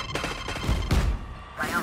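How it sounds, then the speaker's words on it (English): A grenade explodes in a shooter video game, with heavy thumping blasts and crackling gunfire bursting through a loud, busy mix, and a short voice callout in between. "Grenade."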